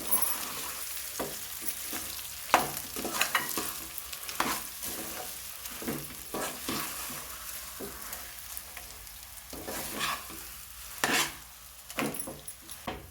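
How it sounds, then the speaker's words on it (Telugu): A potato mixture is stirred into frying rasam in a pan, with a steady sizzle and repeated scraping strokes and occasional spoon knocks running throughout at close range. "కలిపిన పొటాటో ఉంది కదండి వేసుకోవాలి బాగా కలపాలి"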